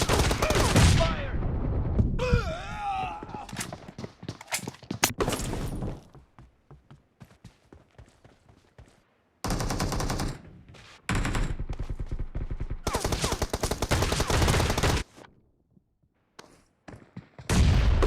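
Shotgun fired in an arena, heard as loud, close bursts of gunfire clustered together and separated by quieter gaps.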